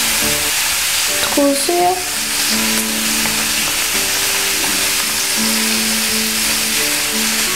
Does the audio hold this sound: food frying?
yes